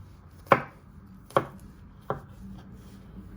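Garlic being finely diced with a knife on a chopping board: three sharp, close knocks spaced under a second apart, the last softer, with quiet room tone between them and no talking.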